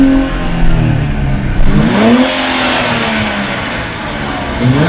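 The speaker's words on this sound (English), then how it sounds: "I'm going to rev up my 3-litre V6 turbo." A 3-litre V6 turbo car engine revs up loudly and close, pitch climbing and falling in a couple of surges before settling into a steady higher drone.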